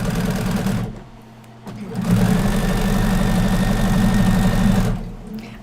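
A sewing machine runs loud and close in a steady mechanical whir, pauses briefly, then starts again with a long, even stitching drone before slowing near the end.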